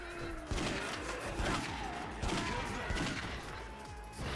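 Combo attack with Daigo in Yakuza Dead Souls, a grenade-style move: bursts of explosive, gunfire-like blasts and thuds in a game scene, loud and dense, with repeated impacts under a faint voice.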